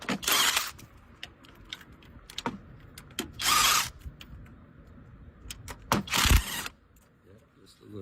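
A power tool loosens bolts on the thermostat plate of a 2012 Dodge Caravan in three short whirring bursts, with clicks of handling and someone speaking between them.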